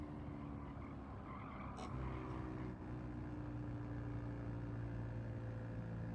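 A race car in Gran Turismo 7 drones with a steady engine hum while a brief tire squeal cuts in partway through, quiet and continuous with no voices.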